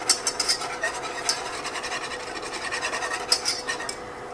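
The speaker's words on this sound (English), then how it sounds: "we're going to whisk this until we get it nice and smooth and heated through" A whisk ticks and scrapes against a pan while a citrus glaze for a spiral bone-in holiday ham is stirred smooth, with soft, fairly steady clinks and a few sharper taps.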